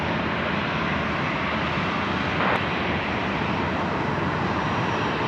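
A Qantas airliner landing at Sydney Airport at night, a steady, fairly loud wash of engine roar with no clear peaks, and no speech over it.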